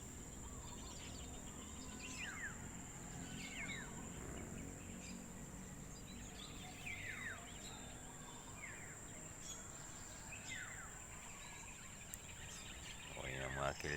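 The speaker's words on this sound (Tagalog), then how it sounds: "Okay na mga kilyawan, ibon." Black-naped orioles (kilyawan) call in short repeated whistling phrases from a quiet natural area near a building site, faint and distant over a steady insect drone.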